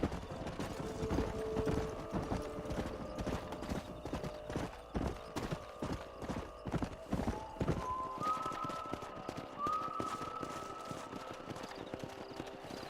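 Horse hooves clip-clop in a steady, dense rhythm in Red Dead Redemption, with occasional whinnies and a rising whistled tone near the end, no voices over it.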